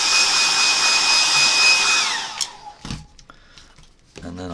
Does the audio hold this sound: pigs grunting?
no